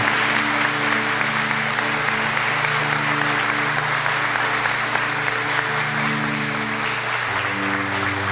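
A church congregation breaks into sustained, loud applause, many hands clapping continuously and filling the room, with a steady hum of music or amplification underneath.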